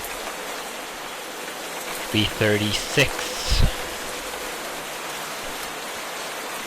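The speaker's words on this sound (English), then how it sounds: "Oh, dang rain." Steady rain falling in the Minecraft video game, a constant even hiss throughout, with someone talking briefly over it.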